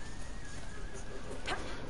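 A horse whinnies faintly in Dragon Age: Inquisition. The short, bright neigh rises out of a quiet, hissy game soundscape, with a low background tone running underneath.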